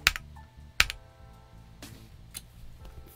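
Keystrokes on a stock mechanical 65% keyboard with a CNC-machined case, a few sharp clacks spaced across the moment with softer taps between, close and fairly quiet with no voices.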